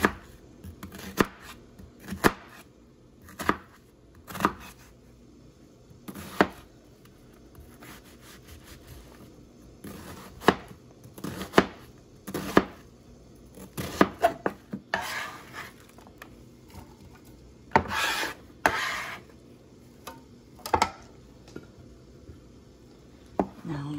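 Half an onion being chopped with a knife on a cutting board in a home kitchen while making shrimp meatball soup: irregular sharp knife taps, some in quick bursts and others spaced apart, close up with no talking.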